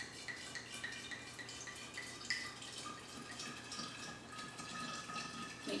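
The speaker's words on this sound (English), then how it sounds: "So to those raspberries and sugar, we're going to add that whole bottle of wine." Wine from a whole bottle pours into a narrow-mouthed pitcher holding raspberries and sugar, a quiet, steady liquid trickle and splash heard close up with faint clinks, no talking.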